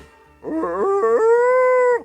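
A dog lets out a single sustained howl, starting with a few wavering yips before settling into a long, steady wail, close and loud.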